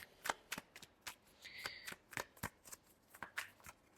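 Tarot cards being shuffled by hand, a run of crisp papery riffles and slaps in an irregular rhythm, close and fairly quiet with no talking.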